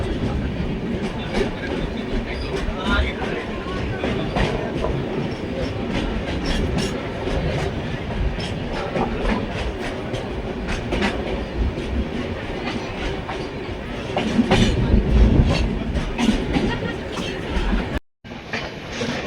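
Sarvodaya superfast express train rolling toward Jammu Tawi station: steady rumbling wheel and carriage noise with faint rhythmic clatter, swelling briefly louder near the end before a sudden short dropout.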